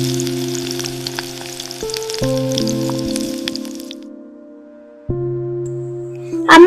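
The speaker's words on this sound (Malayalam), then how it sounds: "ഇപ്പോൾ നോക്കൂ, അമ്മ ചൂടായ എണ്ണയിൽ മീൻ പൊരിക്കുന്നു." Fish frying in hot oil in a home kitchen gives a steady close sizzle with crackles. A pause comes near four seconds, then the frying resumes with a brief louder burst at the end, with a faint tonal hum running underneath.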